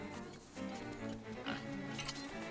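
Pig enemies in the Nintendo Switch game Link's Awakening grunt repeatedly over steady game music, a cluster of short low snorts rising and falling through a couple of seconds.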